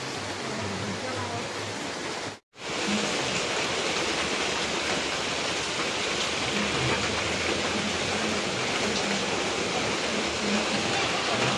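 Heavy rain pouring down in a steady, dense hiss, loud and continuous throughout with only a short break, no distinct voices above the downpour.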